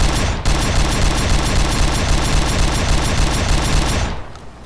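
An AA-12 shotgun in Arma 2 firing, a rapid, loud, continuous stream of booming full-auto shots lasting several seconds after a brief pause, then cutting off abruptly.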